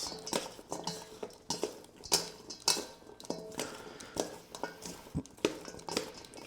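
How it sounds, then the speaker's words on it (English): Vegetables, carrots and mushrooms among them, being tossed with a generous glug of olive oil in a bowl, giving a busy run of close clinks, taps and soft wet clattering in uneven bursts. "I will add a good amount of olive oil and toss"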